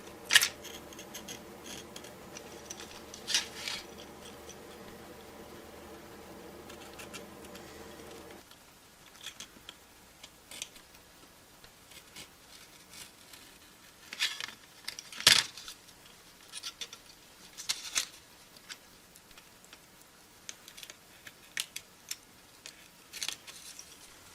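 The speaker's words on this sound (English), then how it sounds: "Now these big holes I'll cut out from behind with the X-Acto knife." An X-Acto knife cuts out large holes from behind a sheet. A steady hum ends early, then sparse, faint scratchy clicks and scrapes follow close by with short gaps between them.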